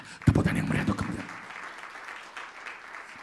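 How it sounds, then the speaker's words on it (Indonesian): A church congregation breaks into a loud, brief round of applause that quickly fades to scattered claps and room murmur. "Tepuk tangan yang meriah untuk kemuliaan."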